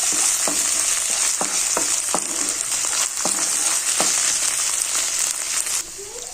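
Chicken, a kilo of it, fries with ginger garlic paste in a pan, giving a loud continuous sizzle broken by regular scraping stirs, close up and with no voices; the hiss drops slightly at the very end.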